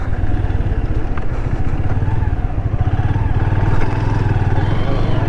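A motorcycle engine drones loudly and steadily while riding on a road trip from Anakapalli toward Annavaram, with rapid low firing pulses and rushing wind noise throughout.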